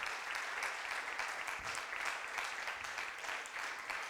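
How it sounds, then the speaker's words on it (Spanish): A church congregation at a Sunday service claps steadily in a dense, continuous patter of applause, heard fairly faint and distant. "Dele un aplauso al Señor."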